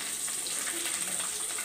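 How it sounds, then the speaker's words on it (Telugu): Fish frying in oil in a pan, a soft, steady crackling sizzle that carries on evenly throughout. "ఇలా ఫ్రై చేసుకుందాం."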